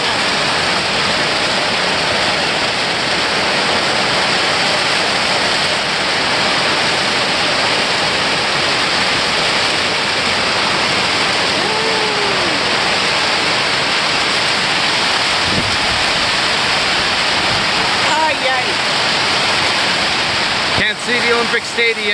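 Heavy rain falling outdoors in a city, a loud, dense and continuous hiss that fills the whole stretch, with faint brief sounds poking through near the end.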